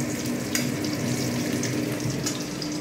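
Food sizzles while frying in a pan of ghee and white oil for fried rice: a steady, close, crackling hiss with small pops and no talking.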